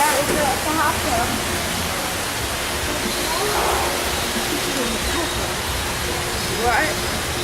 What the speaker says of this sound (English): There's a pool over there. It's a hot tub.